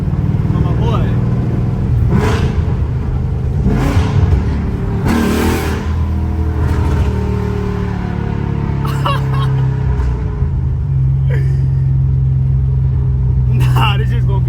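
A loud Ford Mustang GT with a Coyote engine, its exhaust revving hard in repeated bursts over a steady deep rumble, close to the microphone, with people talking between the revs.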